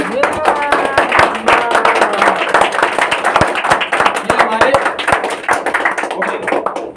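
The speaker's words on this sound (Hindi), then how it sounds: "आज हमारे मेंटोर, इनके लिए जोरदार तालियां" An audience at a Vestige sales presentation claps for its mentors, with scattered, uneven hand claps mixed into ongoing voices and a tonal background.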